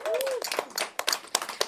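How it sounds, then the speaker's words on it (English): An audience at a live talk show applauds with a brief scattered burst of clapping and a short whoop, moderately close and thinning out toward the end. "Let's give another round of applause to Nika."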